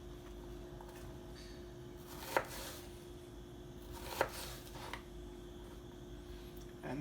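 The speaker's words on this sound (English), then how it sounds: "And then I'm going to cut across the other way." A knife chops vegetables on a cutting board in a kitchen, producing two or three sharp, isolated thuds spaced a couple of seconds apart against a quiet, steady room hum.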